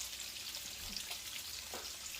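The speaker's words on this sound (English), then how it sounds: "I fry my bacon on medium" Bacon fries in a pan over medium heat, a close, continuous crackling sizzle with small pops, steady and even, heard alone without talk.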